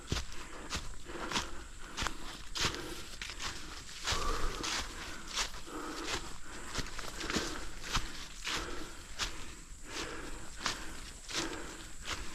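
Heavy, laboured footsteps of a hiker on a mountain ridge trail in Korea, a steady near rhythm of about two steps per second with crunching ground underfoot throughout.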